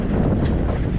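Strong, cold wind buffets the microphone at fishing docks in Italy, a constant low roaring rumble with no voices.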